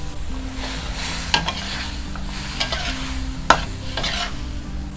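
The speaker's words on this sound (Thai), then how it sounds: "เติมน้ำสักนิดค่ะแล้วก็ใส่ผักลงไปเลยค่ะผัดให้ผักสุกก่อนนะคะ" Vegetables stir-fried with a splash of water and seasoning for a Thai seafood rad na, a steady close sizzle with scraping spatula strokes and two sharp clinks of utensil on the pan, no talking.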